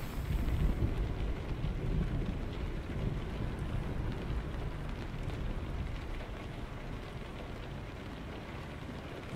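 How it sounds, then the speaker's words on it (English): Steady rain from an Arkansas rainstorm in American Truck Simulator, a dense, continuous low rumbling wash that stays loud and even throughout with no voices. "so we got to do this in the rain too"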